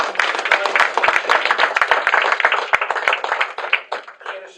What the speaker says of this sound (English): How about a round of applause for all these guys who joined us